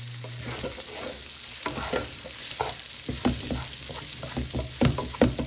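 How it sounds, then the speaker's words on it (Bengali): A spoon scrapes and stirs salted white polao (pilaf) in a pot, with irregular close scraping strokes over a steady soft sizzle from the heat beneath. "ভালো করে নেড়ে চেড়ে সব কিছুর সাথে মিশিয়ে নিব।"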